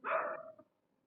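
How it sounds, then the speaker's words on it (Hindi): A single short dog bark from outside, faint and distant, cutting off quickly into silence. "यार ये थोड़ा डिस्टरबेंस हो सकता है बाहर की तरफ कुत्तों की वजह से।"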